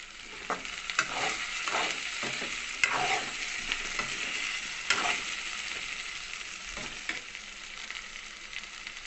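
Eggplant and potato frying in a pan, a steady loud oil sizzle with intermittent scrapes and clacks of stirring, close and continuous without talk.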